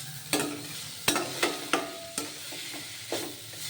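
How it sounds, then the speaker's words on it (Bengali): Cauliflower frying in a pan is stirred with a utensil, giving several sharp scraping knocks at irregular intervals over a soft continuous sizzle, close and fairly quiet with no talk. "নুন দিয়ে ভালোভাবে কপিটাকে নাড়াচাড়া করব একটু ভাজা ভাজা করব"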